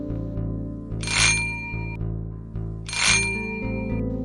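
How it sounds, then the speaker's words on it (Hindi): A doorbell rings twice in a Hindi audio story, each bright chiming ring standing out over a low sustained musical background. "उसी रात करीब 12 बजे डोरबेल की आवाज सुन इंस्पेक्टर मनोज की नींद टूट गई।"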